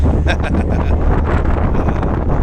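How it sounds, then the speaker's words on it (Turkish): Strong wind buffets the microphone aboard a ferry in Istanbul in a continuous low roar, loud and close throughout. "rüzgara bak sesini duyuyor musun? Rüzgarın sesini."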